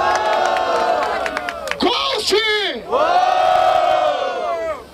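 A rap battle crowd in Barueri roars and cheers loudly, with shouted voices rising over a sustained crowd din. A brief shout cuts through near the start.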